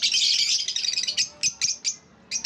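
Young pet birds in a breeder aviary give a dense run of high chirps and tweets, continuous at first and then breaking into short separate bursts, close and fairly loud with no talking.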